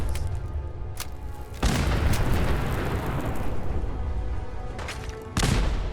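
Explosions in the video game Fallout 4: a loud, broad rumbling blast erupts after a quieter stretch, sustains for several seconds, and a second heavy boom hits near the end, with no talk.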